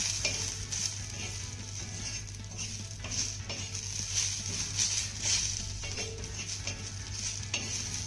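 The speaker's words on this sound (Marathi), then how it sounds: "आता हे कांद्यामध्ये छान असं मिक्स करून घेऊया" Roasted sesame seeds and coconut are stirred into onions in a hot pan, a steady close sizzle broken by repeated scraping stirs against the pan, with no talk.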